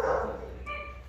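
A single short dog bark or yelp nearby at a rural homestead in Azad Kashmir, fairly faint and brief, followed by a quiet whine-like tone.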